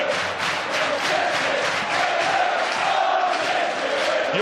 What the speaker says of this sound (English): York City's fans, to their credit, have not stopped shouting, not stopped cheering on their team.